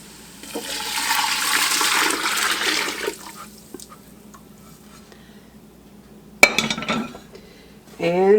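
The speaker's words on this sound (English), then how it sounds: "I'm going to add in my broth that I've been heating here." Heated broth poured from a container into a soup pot of sweet potato jalapeno soup, a steady liquid gush lasting a few seconds, followed by a light clink of cookware and brief talk.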